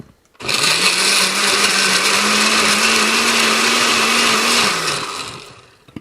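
A blender whirs loudly and steadily for about four seconds, crushing strawberries and other juicy fruit for juice, starting abruptly and winding down at the end, with no talking.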